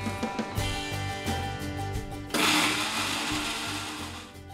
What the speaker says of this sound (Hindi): फ्राई हुए प्याज को अब हम ग्राइंड कर लेते हैं।